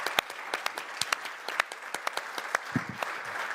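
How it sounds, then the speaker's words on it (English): A conference audience in a hotel meeting room at a global measurement and evaluation summit applauds the AV crew, with a moderate, fairly sparse stream of individual claps that fades slightly toward the end. "give our AV people a huge round of applause"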